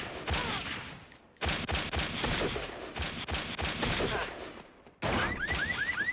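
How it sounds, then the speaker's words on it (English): Gunfire in a mob hit scene from The Sopranos TV series: a dense burst of loud, sharp shots at close range, a short pause, then more shots amid music and scene sound. "Did he shoot? Did Matt shoot Sean?"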